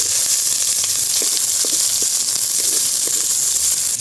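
White onions fry in a pan with a loud, steady sizzle and hiss that holds for the whole stretch, with small crackles popping through it and no talk.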